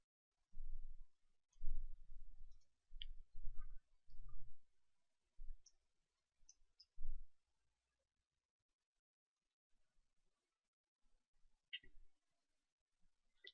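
A computer mouse clicks close and quiet in a cluster of sharp single clicks, then goes nearly silent, with a few faint clicks near the end.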